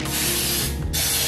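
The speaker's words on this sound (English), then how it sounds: "So I'm gonna go ahead and spray" Cooking spray hissing from an aerosol can onto a cake pan, two loud close bursts separated by a brief pause, with no talking.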